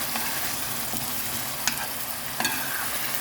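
Vegetables for borscht fry in a pan with a steady, close hiss of sizzling that runs throughout, while a couple of faint scraping stirs come through and nobody speaks.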